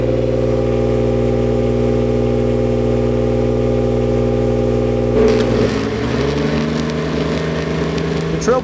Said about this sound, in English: the machine, instead of welding at idle at 2400, is gonna ramp up to full speed at 3600 to deliver the extra power requirements